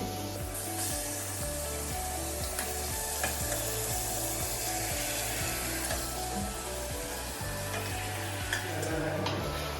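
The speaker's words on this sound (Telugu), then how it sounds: "ఇలా వేసిన చికెన్ని నీట్గా అడుగు అంటకుండా తిప్పాలి కింద దాకా." Marinated chicken pieces stir and fry in a curry gravy for a bachelor-style chicken curry, a steady close sizzle with repeated scraping strokes of a spoon along the pan bottom throughout.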